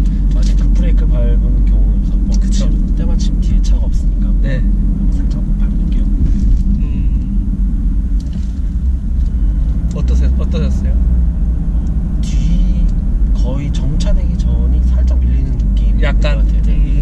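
A new Hyundai Santa Fe 2.2 diesel brakes gently while driving on the road, heard as a loud, steady low cabin rumble of engine and road noise, with people talking over it throughout.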